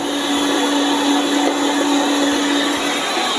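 Electric mixer whipping cream with icing sugar for a mango passion fruit pavlova, a loud steady motor whine with a constant hum, close and unbroken throughout, with no talking.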